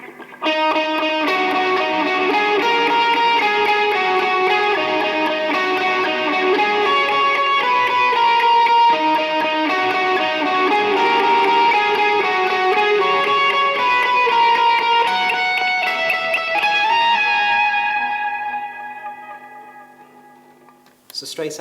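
A distorted electric guitar solo through a Crunchbox distortion and Boss digital delays rings out with sustained, echoing notes, loud and continuous, fading out near the end.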